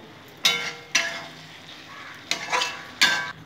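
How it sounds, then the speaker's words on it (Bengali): Goat liver curry (mete chochchori) stirred in a pan, giving four sharp scraping bursts at uneven intervals over a low, steady background, close and fairly quiet. "নাড়িয়ে নেব।"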